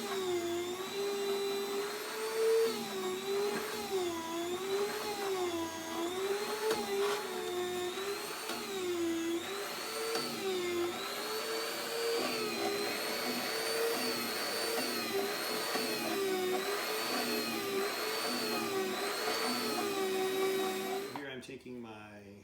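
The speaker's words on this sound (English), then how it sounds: "just trying to mix them up as best as I can in the mixer so I get a little bit of everything" An electric stand mixer churns raw dog food of ground beef and sliced organ meat, a steady, droning motor whine whose pitch wavers rhythmically for over twenty seconds, with a voice talking over it.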